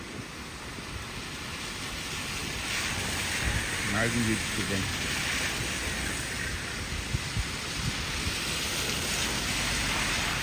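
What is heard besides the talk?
rain at Balneário Camboriú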